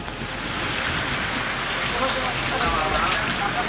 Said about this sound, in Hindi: कितनी खतरनाक बारिश पड़ रही है